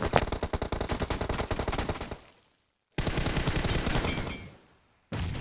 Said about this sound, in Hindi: भाई साहब तभी मुझे फायरिंग कर देता है सामने से बंदा